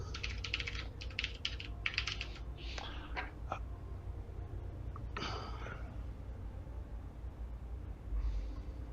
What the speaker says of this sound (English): Oh, it was me typing.